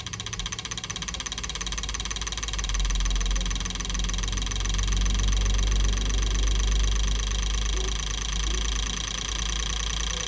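A Maruti Alto 800 engine on a test bench with an ECM tester, running with a rapid rhythmic knocking and a deep hum that rises and steadies as the revs climb, close and loud, with no voices.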